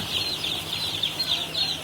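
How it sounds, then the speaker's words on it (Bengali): Tiger-breed chickens and chicks at a poultry farm cluck and cheep steadily in a continuous, fairly loud chorus with no talking. "সুস্থ আছে টাইগার মুরগিটি"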